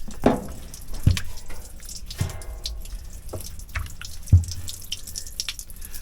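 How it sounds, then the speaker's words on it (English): Coolant leaking and dripping from a generator's cooling system, a few distinct drips landing at irregular intervals over a faint watery trickle, close and fairly quiet. "we know we got a massive coolant leak"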